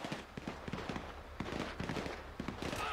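Gunfire in Grand Theft Auto 5 crackles in rapid, uneven bursts of sharp shots at moderate distance, some overlapping, with a low background rumble and no talk.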